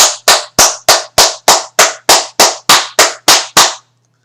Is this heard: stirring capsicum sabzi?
no